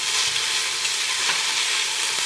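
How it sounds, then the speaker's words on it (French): Onions sweating in a pan for a fennel velouté give off a steady, even sizzle that holds close and constant throughout, with no talking. "on va laisser suinter les oignons pendant 3-4 minutes"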